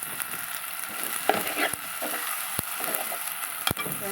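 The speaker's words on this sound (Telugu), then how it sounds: "ఒక 5 నిమిషాలు అలా వేగనివ్వాలండి." Prawn and mango curry sizzles and fries in a pan with a steady crackling hiss, punctuated by a few sharp clinks and scrapes of stirring, close and alone.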